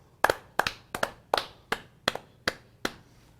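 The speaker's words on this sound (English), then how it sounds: "Now, can you clap it with me?" Hands clapping in a steady counted rhythm, eight crisp close claps spaced evenly at about a third of a second apart, with a few doubled hits, alone without any voice.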